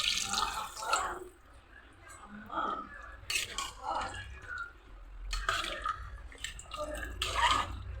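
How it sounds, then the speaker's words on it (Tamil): Water pours and splashes into a pan of mutton masala, followed by stirring with light clinks of a utensil. Speech runs over the kitchen sounds throughout. "இப்போ இதில் வந்து மட்டன் வேகிற அளவுக்கு நம்ம தண்ணி ஆட் பண்ணிக்கலாம்"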